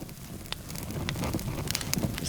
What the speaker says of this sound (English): It's like a nice roaring fire.